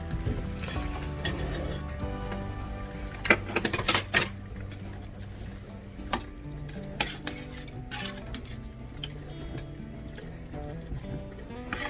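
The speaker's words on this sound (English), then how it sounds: "now go ahead and stir that in" A spoon stirring chili mac and cheese seasoned with cumin in a pot, scraping and clinking against the metal in irregular strokes, with a soft sizzle underneath and no talking.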